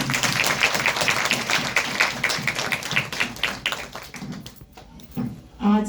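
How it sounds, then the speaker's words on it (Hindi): An audience at a women's gathering claps steadily as one in rhythmic unison, moderately close, before the clapping thins out and stops. "तो एक बार आप सब और हम सब अपने लिए ताली बजाएंगे।"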